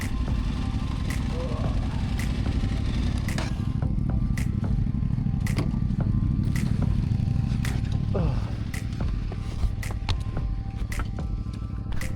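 Irregular knocking and clattering from a motorcycle while riding, sharp ticks cutting through a steady low engine rumble and road noise, with a voice speaking at times.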